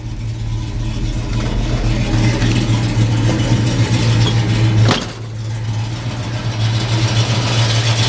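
A 1968 Dodge Dart with a 383 V8 idles nearby, a loud steady low rumble with a brief dip midway before settling back into the same even throb.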